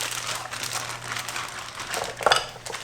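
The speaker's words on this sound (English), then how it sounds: "Seal the bag real good. Get the air out." A Ziploc plastic bag holding marinade for a London broil top round roast is sealed and handled, giving soft close crinkling and rustling with one sharper crackle near the end, over a faint steady hum.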